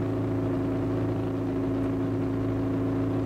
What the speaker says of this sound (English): Engine doesn't sound very healthy to me.